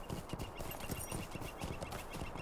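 Horse hooves clip-clopping at a quick, steady gallop in LOTRO, a dense run of close, even thuds under a faint ambient backdrop with no talking.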